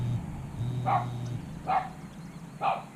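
A neighbor's dog barks from some distance outdoors, three separate woofs spaced roughly a second apart over a low steady background hum.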